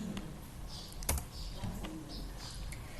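Someone types a terminal command on a computer keyboard, quiet close keystrokes in an irregular run with one sharper tap near the middle, over a low steady hum.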